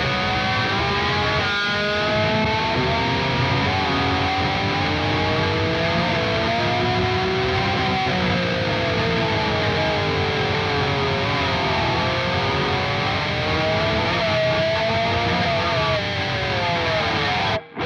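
Electric guitar with distortion fully up and heavy gain, played with a metal USB adapter as a slide, giving a sustained, buzzing tone whose gliding pitch wavers up and down continuously and loudly throughout.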